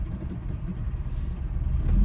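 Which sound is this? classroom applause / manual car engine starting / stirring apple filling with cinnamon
manual car engine starting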